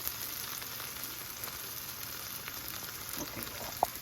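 Purple potatoes sizzle in oil with rosemary in a saucepan, a faint, even crackle that runs steadily, with one brief sharper tick near the end.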